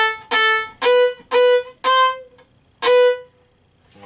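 Bowed strings play a short staccato passage, five crisp detached notes with brief gaps between them, the last after a longer pause, clear and close with no talking.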